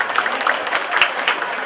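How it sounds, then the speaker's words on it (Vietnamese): Congregation applauding at a thanksgiving Mass for a newly ordained priest, a close, steady burst of many hands clapping throughout the brief moment. "xin chúng ta một tràng vỗ tay ạ"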